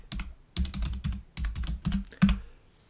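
Typing a password on a computer keyboard running Linux Zorin 17.2 Pro: close, crisp clusters of keystrokes in several quick bursts separated by brief pauses, ending with one firmer press, with no talk.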